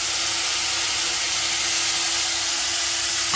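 A steady, loud hiss of mushroom curry masala with ginger garlic paste and red chili sautéing in a hot pan, an even frying roar without pauses or voices.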